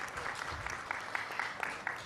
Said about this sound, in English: can we have a huge round of applause for our chairpersons and our speakers?